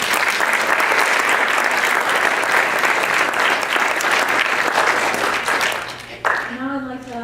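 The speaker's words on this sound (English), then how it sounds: "So let's give another round of applause for all of them." Audience at a 2014 commencement ceremony gives a loud, sustained round of applause that fades near the end as a speaker's voice begins over the dying claps.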